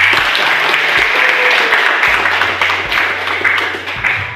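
A classroom of students applauding after group presentations, loud sustained clapping throughout, with a low hum underneath and a slight fade at the close.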